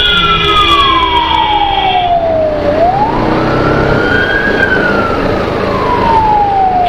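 An ambulance siren wails loud and close on a busy road in Kerala, its pitch sweeping steadily down, then rising and falling again over constant traffic noise.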